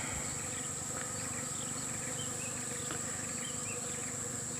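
Bees and other pollinating insects buzz in an oil palm plantation, a steady faint hum with a persistent high-pitched insect drone and no talk.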